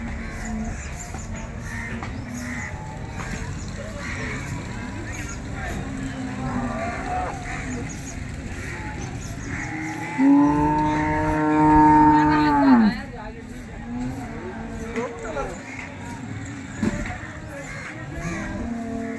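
Cows at a large cattle market in Maharashtra, with one loud, drawn-out moo rising clearly in the middle over steady crowd chatter and market noise.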